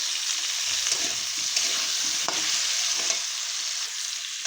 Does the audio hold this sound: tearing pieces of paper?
no